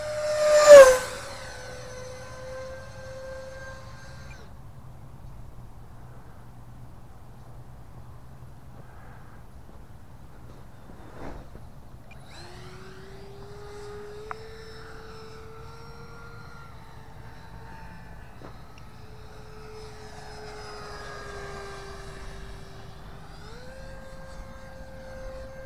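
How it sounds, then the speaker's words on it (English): Freewing RC F-16 fighter jet with a 64 mm electric ducted fan on 4S power running at full throttle down a runway, a thin rising whine heard at a distance after a loud start. "You got this full blast again. Here we go."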